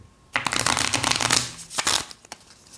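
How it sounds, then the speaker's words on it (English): A deck of cards is riffle-shuffled once in a brisk, fluttering burst, followed by a few soft taps as the cards settle. "Let me shuffle this once more."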